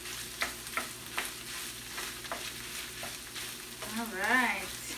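Seasoned meat for hamburger sliders being stirred in a pan over medium heat, with a low steady sizzle broken by scraping strokes about once a second and a brief louder swirl near the end.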